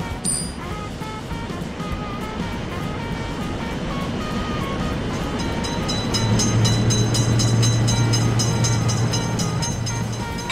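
A train rolls through a level crossing at a railroad crossing, a steady rumble building and growing louder toward the end, with a low tonal hum emerging as it nears.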